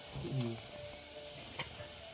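Spices fry in hot oil with a faint, steady sizzle and a brief stirring scrape, quiet and close for a couple of seconds.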